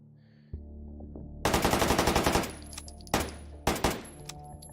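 Automatic rifle fire in the VR shooter Take & Hold, a rapid burst of about a dozen loud shots followed by two shorter bursts, each ringing out with echoing tails over a low hum.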